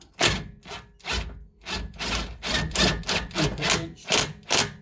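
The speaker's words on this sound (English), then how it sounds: "Impact wrench." Close, rough bursts of an impact wrench, also called a stud gun, driving bolts on a Ford Mondeo ST220 rear top mount, a run of short rattling hammering blasts with brief gaps between them.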